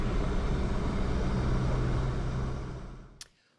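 An electric airplane on an introductory flight gives off a steady, broad whooshing hum that holds level, then fades away, ending with a sharp short click.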